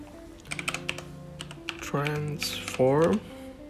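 Typing in Adobe Premiere Pro on a computer keyboard, a quick run of close key clicks followed by tonal voice-like sounds that sit over and after the taps.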